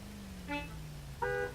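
Two short car horn toots sound in a racing video game over a low steady engine drone, the second honk slightly longer and louder than the first.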